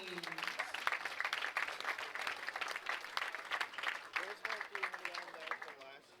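An audience at a bowling championship awards ceremony claps for the individual award winners, a dense, sustained round of applause with a voice speaking over it partway through before the clapping tapers off.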